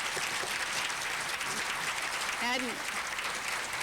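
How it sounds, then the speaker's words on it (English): A broad, steady wash of audience applause fills a county event hall at moderate distance, with a brief spoken word poking through near the end. "Will you all please offer a round of applause for their courage and their progress."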